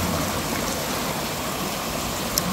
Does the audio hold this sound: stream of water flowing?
yes